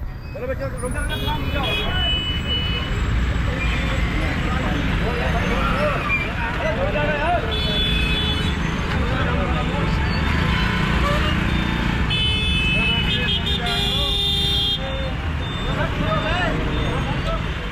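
Dense street traffic in India, with cars, motorbikes, buses and trucks rumbling steadily and bursts of horn-like tones above a constant wash of crowd babble.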